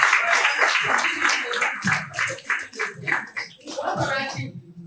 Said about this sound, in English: Excellent. Clap for you.